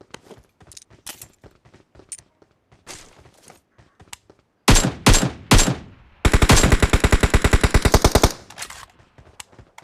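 Gunfire in PUBG Mobile: scattered single shots, then a burst of several heavy shots, followed by a long rapid automatic string of about two seconds, loud and close, with quieter shots trailing off afterward.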